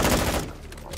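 Dense gunfire in Call of Duty: Modern Warfare II, a loud rapid fusillade for the first half second that thins into scattered quieter shots and rattle.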